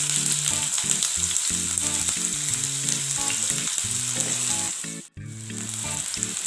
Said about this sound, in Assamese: পিঁয়াজখিনি অকণমান ৰঙচুৱা হোৱালৈকে ভাজি থাকিম